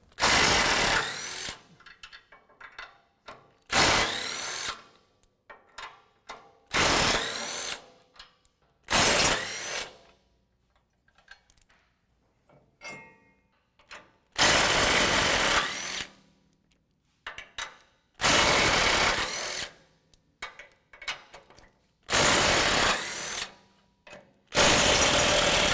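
A socket ratchet or power driver whirs in repeated loud bursts, with quieter clicking and handling in between, while bumper bracket bolts come off a truck frame close by.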